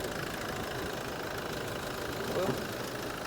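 Used car with automatic transmission idling, a steady mid-pitched engine hum that runs continuously at moderate loudness, with a voice audible over it.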